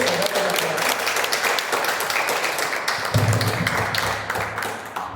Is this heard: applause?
yes